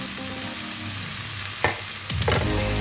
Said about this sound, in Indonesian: terus kita masukin cabai hijau, cabai merah, sama irisan jahe dan kunyit.